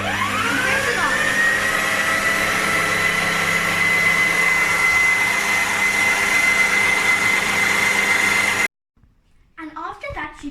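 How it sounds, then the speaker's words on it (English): An electric stand mixer whirs up to speed in a home kitchen and holds a loud, steady motor whine for several seconds, then cuts off abruptly before a voice speaks. "you push the mixer like this to lock it. And then you press this button to make it go down"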